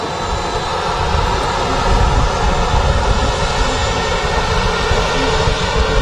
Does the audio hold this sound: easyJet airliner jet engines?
yes